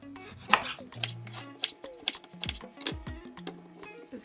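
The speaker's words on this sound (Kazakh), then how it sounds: "Келесі кезекте апельсинімізді турап алып" A knife chops an orange on a cutting board for an orange cake batter, giving close, crisp, irregular cuts with no talking.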